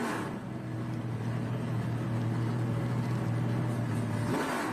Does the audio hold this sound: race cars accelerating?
yes